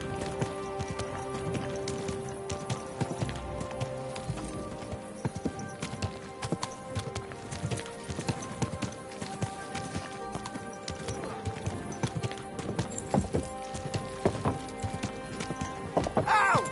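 Rapid clip-clopping hooves from a galloping horse in Kingdom Come: Deliverance 2 over game music, with an occasional whinny; busy, continuous, fairly loud.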